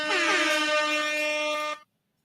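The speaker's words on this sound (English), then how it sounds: "Let me see if I can get this air horn to actually work this time" An air horn blasts one loud, steady, brassy note for nearly two seconds and cuts off abruptly into silence.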